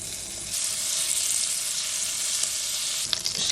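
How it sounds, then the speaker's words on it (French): Pieces of meat frying in butter in a home kitchen pan, a steady close sizzle with hissing crackle throughout, a few sharper pops near the end. "Chaque bout de viande dans le beurre pour que ça dore un petit peu, que ça colore."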